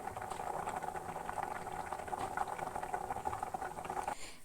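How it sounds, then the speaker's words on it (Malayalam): Potato pieces simmer in salted water in a pot, giving a steady close bubbling patter that carries on evenly for several seconds before tailing off near the end, with no voices. "ഇതിലേക്ക് ആവശ്യത്തിന് ഉപ്പ് ഇട്ടിട്ട് നമ്മളിത് വേവിച്ചെടുക്കാൻ പോവുകയാണ്"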